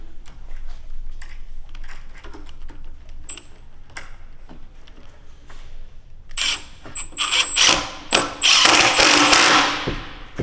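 Screws being driven into a door while hanging it, light tapping and clicking at first, then a louder grinding, whirring stretch of driving up close.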